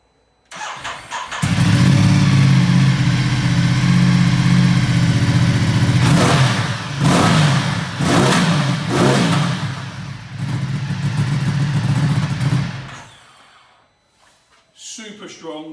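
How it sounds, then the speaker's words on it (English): Ducati Multistrada 1200 S Touring with a 1200 twin engine fires up and settles into a loud, close idle, then is blipped through several sharp revs before shutting off, followed by a brief moment of quiet. "Super strong 1200 twin engine, sounds fantastic."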